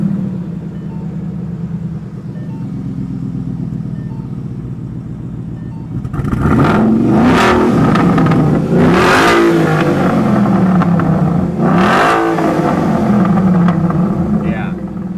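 A 2013 Ford Mustang Boss 302 V8 idles with a low burble, then revs hard several times, loud rising and falling exhaust roars close by, with exhaust plates removed, voices underneath.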